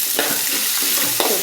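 Chopped onion is added to a hot pan with lentils, producing a close, bright sizzle broken by a few scraping stirs, with no voices.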